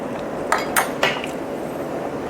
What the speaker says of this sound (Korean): 자, 이렇게 계속 볶아줍니다.